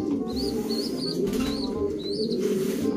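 Racing pigeons cooing in a loft, soft low repeated coos forming a steady murmur throughout, with a few brighter chirps and tweets layered over them.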